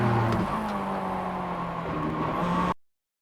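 Mazda MX-5 engine note in iRacing at Virginia International Raceway North, heard close as a steady, loud drone with engine-braking downshifts that ends abruptly into silence.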